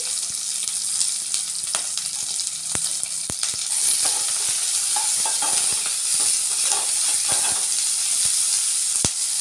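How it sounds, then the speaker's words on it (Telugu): Chopped green chillies and onions stir-fried in a pan for plain biryani, a loud continuous hissing sizzle broken by sharp spatula scrapes and taps, close up with no voices. "పచ్చిమిరపకాయలు ఉల్లిగడ్డలు ఉల్లిగడ్డ పచ్చిమిరపకాయ వేసుకొని కలుపుకోవాలి"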